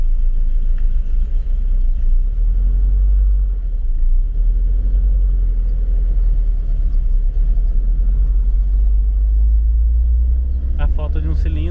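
A Volvo car engine idles roughly with one dead cylinder, a loud, deep, uneven rumble that holds steady throughout, with a brief rattle near the end and no clear talk over it.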